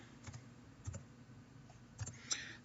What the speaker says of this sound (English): So let's type it in.